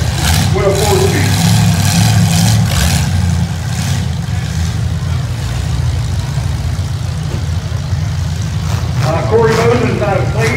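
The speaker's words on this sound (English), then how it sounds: "Diesel Myers from Williamsburg, driving a Chevrolet Capri. He's running a 427 out of the 66 Corvette. With a 4-speed" A Chevrolet Capri with a 427 engine from a 1966 Corvette and a 4-speed rumbles and revs loudly and continuously at a county fair 8-cylinder heat, its deep engine drone steady throughout while an announcer speaks over it.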